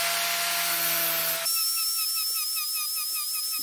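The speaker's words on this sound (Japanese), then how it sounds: "グラインダーで刃を研ぎます" An angle grinder with a yellow abrasive disc sharpens a handmade stainless hammer-knife blade for a Makita cordless mower conversion. A steady high whine with grinding hiss shifts abruptly in pitch midway as the load changes, and there is no talk.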